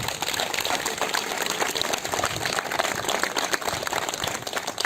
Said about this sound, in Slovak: Oddajme mu takým veľkým potleskom taký pozdrav do neba.